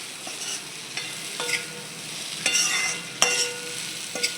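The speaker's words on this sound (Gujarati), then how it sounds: "હવે આપણે તેને હલાવી લઈએ" Kantola (spiny gourd) sabzi, a dry Gujarati vegetable dish, stirred in a pan with a spatula, giving irregular scraping clinks and scrapes over a steady soft sizzle of frying, close and fairly quiet with no talking.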